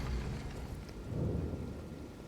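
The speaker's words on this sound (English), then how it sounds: "we get to go in right as it starts raining" Rain falls in the Elden Ring video game, a steady patter on surfaces with a low rumble of thunder rolling through, moderately quiet and without voices.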